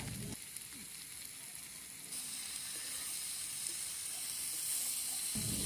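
A vegetable mixture with turmeric and salt sizzles in a pan for a fish curry, a soft, even frying hiss with faint scrapes of stirring that grows slightly louder partway through.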